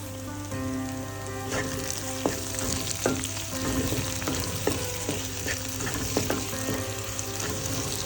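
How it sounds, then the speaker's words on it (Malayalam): Finely chopped ginger sizzles and fries in hot oil in a pan for a Kerala crab roast, a steady crackling hiss with occasional stirring clinks and pops throughout, no voices. "ആദ്യം നമുക്ക് ചെറുതായിട്ട് അരിഞ്ഞെടുത്ത ഇഞ്ചി ചേർത്ത് കൊടുക്കാം"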